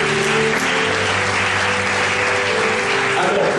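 A church congregation applauds loudly and steadily, a dense wash of clapping with sustained tones running beneath it for the whole stretch.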